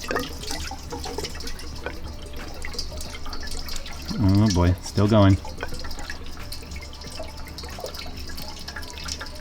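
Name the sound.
liquid dripping from a Camaro ZL1 watercooling setup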